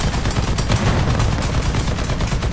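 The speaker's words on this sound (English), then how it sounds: "Except I'm being shot by my own teammates." Rapid machine-gun fire from War Thunder rattles loud and close in a dense continuous burst, with no talk over it.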